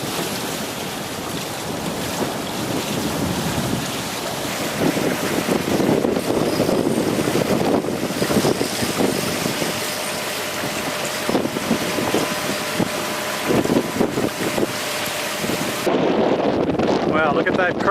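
A boat motors across a river and up a creek, with steady engine drone, water rushing along the hull and wind buffeting the microphone throughout.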